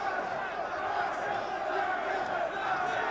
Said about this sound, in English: Crowd getting real loud behind as they're into this one.